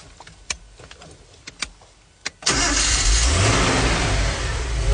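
A Datsun S30's engine cranks and fires, then roars into a loud, sustained rev close by, following a few sharp clicks and knocks in a quiet moment, with no talking.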